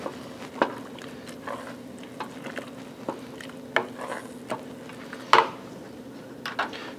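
A spoon stirs pea pesto with English peas and cheese in a pan alongside seared scallops, giving soft scraping and light clinks in scattered taps, close and quiet.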